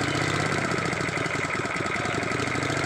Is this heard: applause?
no